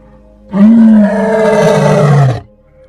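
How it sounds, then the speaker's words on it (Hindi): A lion roars once in a single loud, close, sustained bellow of about two seconds that rises sharply, holds, then cuts off, with no voices or background noise. "शेर ने मदद के लिए दहाड़ लगानी शुरू की।"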